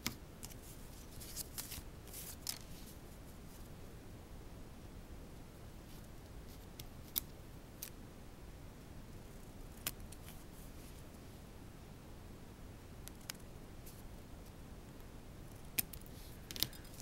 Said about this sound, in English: use that to trim the corners on the next one